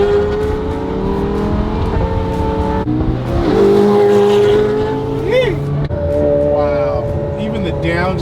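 Supercar roaring past close by with a rising then falling engine note and a crackling downshift, loud over excited voices talking throughout.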